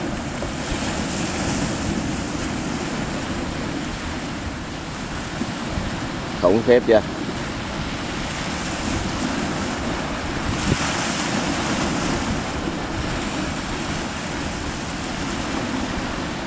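Strong wind and breaking waves at open sea around a fishing boat heading out in heavy weather, a steady close roar of surf and wind buffeting throughout, with a brief spoken exclamation midway.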